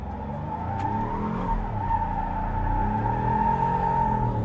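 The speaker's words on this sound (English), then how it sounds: "Let's see if I can do a rear wheel drive power burnout." A 2024 Ford F-150 with locked differential does a rear-wheel-drive power burnout, engine holding a high steady rev under a continuous tire squeal, loud and close.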